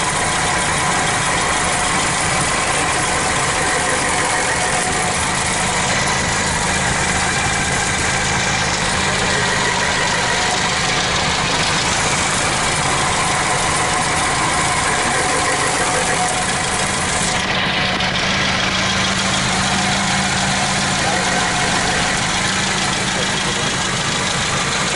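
A 1965 Citroen DS 19 Pallas engine idling close by, a loud, steady mechanical drone with the pulley spinning, unchanging throughout with no talk.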